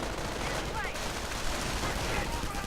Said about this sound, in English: getting absolutely shredded by the MP40s